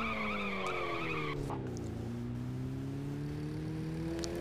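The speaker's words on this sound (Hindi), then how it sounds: "एक कार बहुत सुंदर ड्रिफ्ट लेते हैं।" Car in the mobile game Gangstar New Orleans drifting with a sustained, loud tire skid and squeal over a revving engine, with no pause for the whole stretch.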